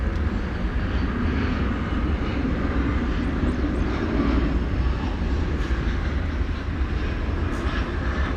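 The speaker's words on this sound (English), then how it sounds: "American Flight 81 coming in from London Heathrow, a 777-300ER" An American Airlines Boeing 777-300ER arriving at Dallas Fort Worth from London Heathrow, heard as a steady, loud, broadband jet engine roar that holds evenly throughout with no voices.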